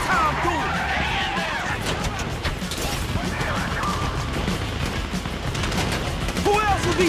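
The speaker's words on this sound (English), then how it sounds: "You hear that gunfire?" Gunfire during a heist in the GTA V video game, rapid bursts and volleys of shots rattling continuously under a dense mix of game sounds and voices.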